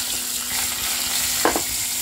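Crushed garlic cloves hit hot oil already tempered with crackling mustard seeds and curry leaves for a carrot-tomato chutney, giving a steady close sizzle with a brief louder spatter burst near the end.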